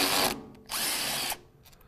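Power tool removing bolts from a Mercedes 722.9 transmission: two loud, close whirring bursts, the second longer, separated by a brief pause, ending in quieter background.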